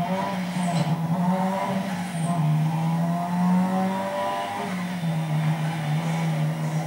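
Simulated car engine in the racing game Need for Speed Most Wanted, loud and continuous, revving through rising and falling pulls with gear changes, with no voices over it.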